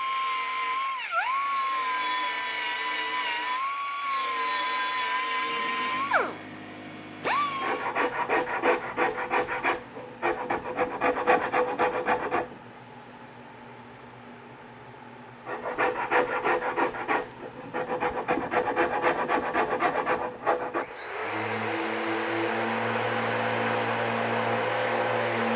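Hand-sanding the wood of a counter height chair gives a steady, close abrasive rasp that starts, stops and resumes in rhythmic back-and-forth strokes, with a humming tone under the first and last stretches.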